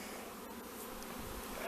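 Swarming honey bees in northeast Tennessee, a dense continuous buzzing drone that stays fairly quiet and even across the short stretch, with no voices.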